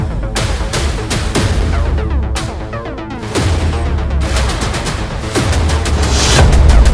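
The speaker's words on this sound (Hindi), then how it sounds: "चल रही ताबड़तोड़ गोलियां" Rapid gunfire as a sound effect: dense bursts of shots and booms pile into a continuous barrage, loud and close with no speech, and the volume swells toward the end.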